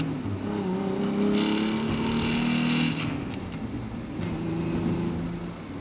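A Nissan 300ZX Z32 pulls away under acceleration, its engine note rising and then easing off. The car sounds moderately close, over steady road and wind rush.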